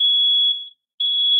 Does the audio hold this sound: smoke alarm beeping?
yes